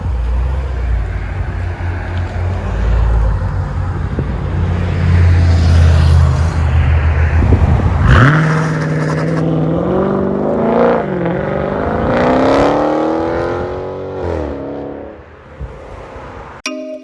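A 2017 Dodge Challenger 6.4L Scat Pack with Dynomax Bullets dual exhaust idles with a deep, loud rumble, then barks into hard revs that rise and fall in pitch before easing off, close by.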